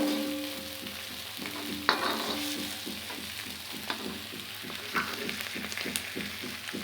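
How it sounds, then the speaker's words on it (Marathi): Onion, tomato, ginger and garlic masala sautés in a pan with a continuous close sizzle, punctuated by regular scraping stirs of a spatula, no voices present. "हे पण त्याच्याबरोबर आपल्याला परतायचं आहे चांगलं।"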